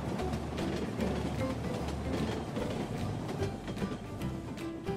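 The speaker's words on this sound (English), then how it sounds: "another train is coming along the tracks. Here it comes." A toy BRIO wooden train runs along toy railway tracks, giving a continuous rattling roll with steady clicking joints, close and fairly loud throughout.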